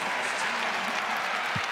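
A crowd at a women's college basketball game between Minnesota and Ohio State applauding a three-pointer, dense sustained clapping and cheering filling the arena at close range.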